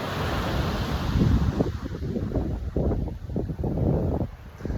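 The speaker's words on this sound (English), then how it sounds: "The waves are really cool today." Ocean surf at Matunuck Beach, steady rushing wash of waves with wind buffeting the microphone, a continuous broad roar with soft swells, no voices.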